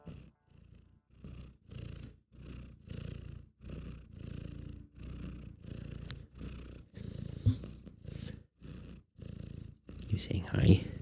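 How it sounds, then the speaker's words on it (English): Domestic cat purring right against a microphone, a close, soft rumbling purr in regular breathing pulses with short gaps, steady for several seconds before a brief rustle of handling at the end. "What a lovely purr."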